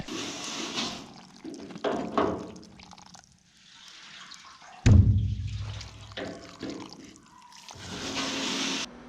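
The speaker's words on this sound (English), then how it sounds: "we're just gonna run water now" Water runs and splashes inside a metal slip tank being washed out, with uneven gushes and trickles, a heavy low surge near the middle, and quieter dripping stretches between.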